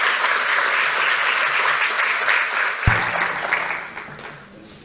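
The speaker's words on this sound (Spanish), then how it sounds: "les pido un aplauso para nuestros próximos speakers" A conference audience at a technology event applauds for the next speakers, a loud full-room burst of clapping that carries on steadily and then fades. A sharp knock comes partway through, and the clapping quiets toward the end.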